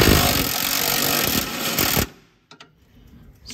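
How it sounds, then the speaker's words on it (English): A loud mechanical rattling while a wrench spins a nut off a hose fitting on a 1960 MG MGA 1600 Roadster, lasting about two seconds and then cutting off, followed by a few faint clicks. "Then spin the nut off."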